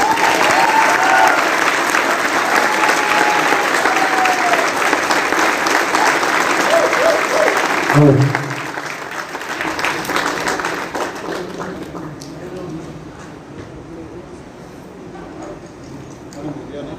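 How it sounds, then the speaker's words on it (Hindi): A large audience at a network-marketing business event claps loudly and steadily for about eight seconds, then the applause fades to a softer, lingering patter. "जब तक एक बार जोरदार तालियां बजा लीजिए आप"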